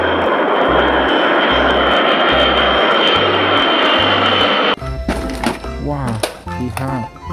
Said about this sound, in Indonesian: ini ada pesawat terbang air coach